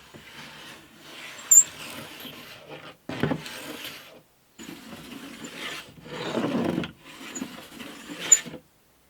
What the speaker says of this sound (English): I think I might need to use a smaller plane actually. I'm not trying to get it absolutely flat, I just want to neaten up the edge.